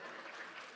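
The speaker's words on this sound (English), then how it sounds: "A round of applause for Chris" An audience at a university startup showcase claps in a brief, dense burst of applause that is fairly faint and even, with no voices over it.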